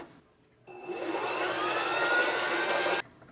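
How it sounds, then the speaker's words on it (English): A sewing machine winds bobbin thread with a steady, mid-pitched whir of about two seconds that starts and stops abruptly against a quiet room. "wind your bobbin thread."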